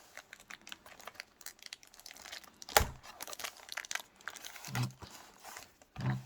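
A Pokémon Evolution Céleste booster display box is unwrapped by hand, with close crinkling and tearing of plastic and cardboard. Soft rustles are broken by a sharp rip and a few louder crunches.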